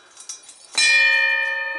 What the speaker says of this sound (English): I have this beautiful captain's bell hanging here. I'll try to ring it quietly.